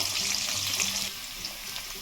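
Potato pieces frying in oil with a little salt, a steady close sizzle and hiss that eases slightly midway, with faint stirring.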